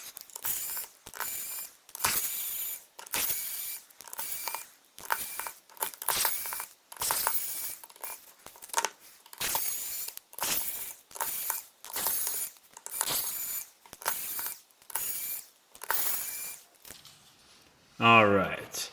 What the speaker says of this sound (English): So grab your handy dandy screwdriver and start taking them off.